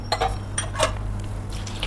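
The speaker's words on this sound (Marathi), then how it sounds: "आता आपल्याला कुकर बंद करून गॅसवर ठेवायचा आहे" Steel pressure cooker lid clinks and rattles shut over a pot of peas, tomatoes and water, a few sharp close metallic knocks against a steady low hum.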